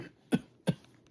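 Two sharp, close coughs about a third of a second apart, each a short burst followed by a quiet pause.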